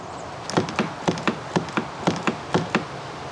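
A Cadillac CTS-V's locked door handle is pulled about ten times in a quick, uneven rhythm, each a hollow plastic click and clunk, close up, with no latch release.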